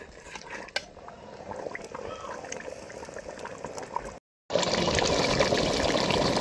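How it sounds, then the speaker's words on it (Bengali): Water splashing into frying masala for a curry, a loud steady hissing sizzle that briefly cuts out then returns stronger, with faint background murmurs. "আর একবার একটু জল দিয়ে কষাই নিচ্ছি মশলাটা ভালো করে।"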